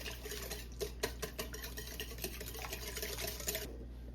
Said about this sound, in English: And we will give this a whisk.